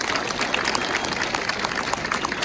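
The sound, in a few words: applause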